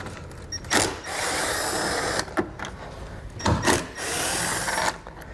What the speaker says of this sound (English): we're going to take a T15 Torx bit and remove both of those